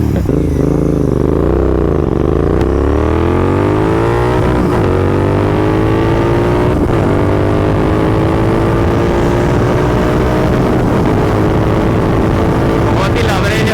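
Loud engine roar of a Royal Enfield Continental GT 650 and a 2024 Kawasaki Z900 accelerating hard in a drag race, revs climbing steadily through gears with a rising whine, wind noise over it.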